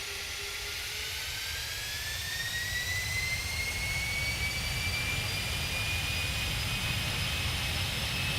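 Boeing 747-8 jet engines spooling up for takeoff in a flight simulator: a steady loud roar with a rising whine climbing in pitch, continuous and building throughout.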